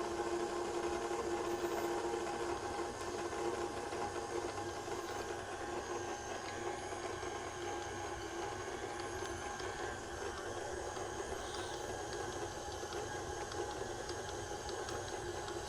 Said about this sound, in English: Now we let the KitchenAid work.